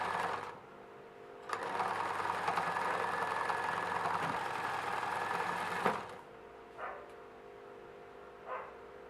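A sewing machine runs steadily for about four and a half seconds, stitching a seam on a waist jacket, then stops, followed by two brief faint mechanical clicks in a quiet room.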